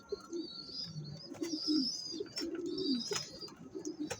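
Racing pigeons coo softly in a loft, several low rolling calls overlapping at close range with faint chirps.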